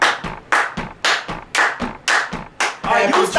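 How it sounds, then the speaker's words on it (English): Loud, steady hand claps keep a regular beat, roughly two per second, each one sharp and close, with a slightly busier flurry of claps near the end. "Alright, you stop and let me clap."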